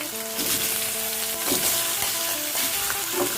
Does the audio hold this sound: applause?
no